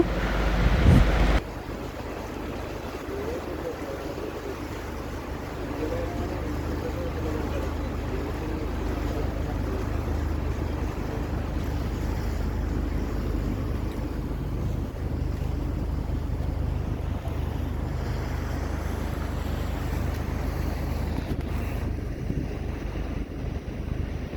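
A tour boat cruising on the Srisailam reservoir near Pathalaganga drones steadily over the water amid heavy wind buffeting on the microphone, with faint voices at times.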